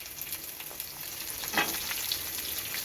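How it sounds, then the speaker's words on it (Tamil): Onions frying in a pan with pepper, cumin, cloves and cardamom, a steady close hiss of sizzling oil with a few stirring scrapes, no voices. "வறுத்துட்டு வறுக்கிறப்ப வெங்காயத்தை போட்டுருவோம்"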